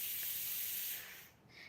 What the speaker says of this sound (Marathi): शिट्टी वाजली आमच्या कुकरची.